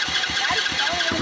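A car engine cranks over with a quick, even chug of about six starter pulses, close and moderately loud, firing into a rough idle at the end.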